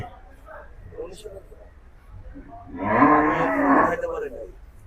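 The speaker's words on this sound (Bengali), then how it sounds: "আকরাম ভাই গরু দেখলেন" A cow moos once at a Gabtoli cattle market, giving a long, loud, drawn-out low call. People talk nearby before the call.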